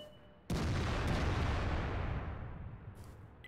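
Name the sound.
artillery shot firing in World of Tanks video game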